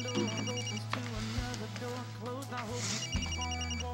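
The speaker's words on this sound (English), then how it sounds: "Will, I think that's you, man. Yeah, I'm gonna let it go to voicemail" A telephone rings with repeated electronic bell tones indoors, under a steady low hum, while people talk over it.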